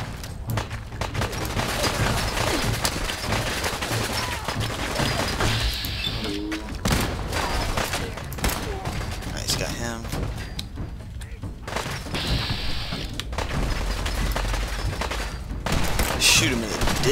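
Gunfire in the video game Fallout 4, dense bursts of shots and booms repeating almost without pause, loud and close, running under excited talk from players throughout.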